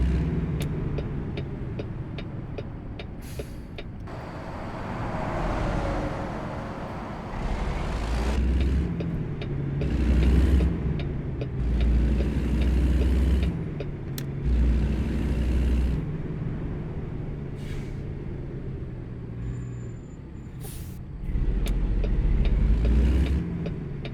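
A heavy-haul truck driving through Louisiana near the Gulf Coast in American Truck Simulator, a steady low engine drone that swells and eases with gear changes, with short air-brake hisses and clicks scattered throughout.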